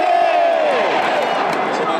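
A crowd roars at a Korean baseball game with Hanwha Eagles fans cheering in the stands, a loud, sustained wall of voices that barely rises or falls.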